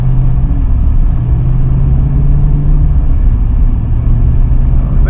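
A vehicle driving on a short ride of about 1.5 miles in winter, heard as a steady, loud low engine drone and road rumble throughout, with no talk.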